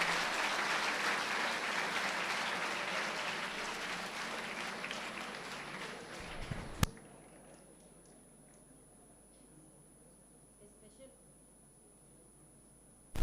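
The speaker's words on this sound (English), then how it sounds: "please give a warm round of applause as I welcome our" A hall audience applauds to welcome the Honorable Governor at an anniversary function for Swami Vivekananda's Chicago Addresses. Dense, steady clapping fills the first half, then stops abruptly and gives way to faint room sounds and scattered noises.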